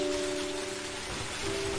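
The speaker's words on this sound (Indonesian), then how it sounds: "Kemudian turunlah hujan yang begitu deras." Heavy rain falls steadily as a dense, even hiss of drops on a surface, moderately loud and continuous with a faint tonal hum underneath.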